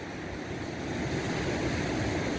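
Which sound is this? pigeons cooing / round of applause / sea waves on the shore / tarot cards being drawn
sea waves on the shore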